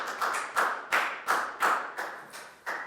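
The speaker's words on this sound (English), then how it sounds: "Big round of applause for Down" A few children in a Year 4 class clapping, sharp separate claps in an uneven rhythm with decaying tails, close and fairly loud, no voices.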